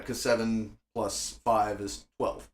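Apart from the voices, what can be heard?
No everyday noises stand out.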